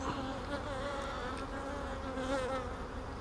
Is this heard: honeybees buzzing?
yes